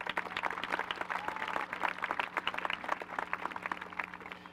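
Audience applause at a high school commencement ceremony, dense steady clapping from a large crowd filling the hall, sustained and moderately loud throughout with no talk over it.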